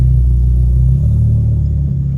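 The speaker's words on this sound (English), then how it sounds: "we'll just pull forward and see if the brakes stop" A car rolls forward to test spongy brakes, its engine rumbling loud and close in a low steady drone, easing slightly as it creeps ahead, with no talking.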